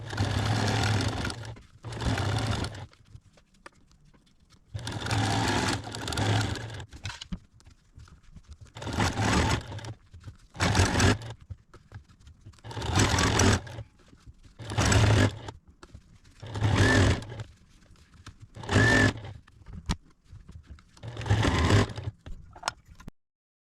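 A sewing machine top stitching a fabric jewelry roll bag runs in repeated bursts of steady, close mechanical whirring, each lasting about a second or two, separated by short pauses.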